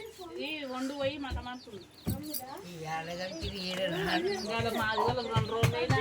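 Hens clucking in short bursts close by in a village, mixed with people talking and a voice over a busy background.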